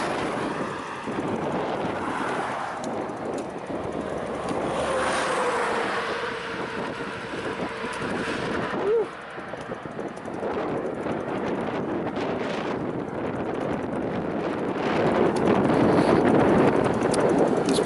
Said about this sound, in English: hopefully the wind will die down this afternoon